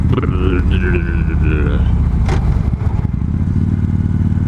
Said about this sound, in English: the giant clank from, you know, shifting gears